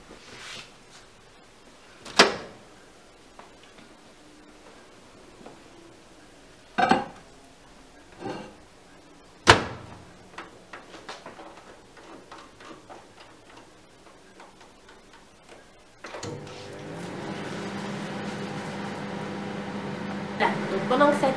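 A microwave oven cooking a Tupperware MicroCook dish at 600 watts hums steadily through the final seconds, after scattered clicks and clatter of dishes nearby.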